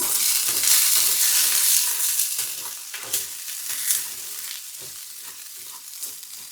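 Japanese rice is stirred in a pot with ginger over a steady background sizzle, with scraping and clacking strokes heard close and repeated at an irregular pace.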